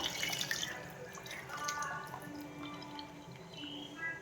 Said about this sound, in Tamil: அந்த புளியை கொஞ்சோட்ட ஊற்றிக்கணும்ப்பா.